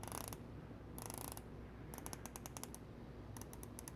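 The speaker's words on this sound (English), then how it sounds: "You're getting a 120 click unidirectional bezel." The 120-click unidirectional bezel of an Oris Aquis stainless steel dive watch being turned, bursts of rapid crisp ratcheting clicks separated by pauses, close and clear with no talking.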